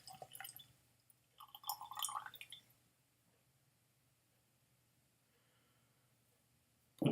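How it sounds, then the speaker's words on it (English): Whisky drains from a tilted sample bottle into a glass in soft, brief drips and small splashes, mostly in the first two seconds, then near silence, quiet and close. "Put the bottle sideways so that it will drain the last few drops"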